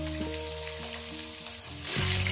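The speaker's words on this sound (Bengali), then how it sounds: "ডিমগুলো সুন্দর করে ভেজে নেব।" Eggs sizzle steadily in a pan with salt and turmeric for an egg posto with cauliflower and potato, the close frying hiss swelling louder near the end.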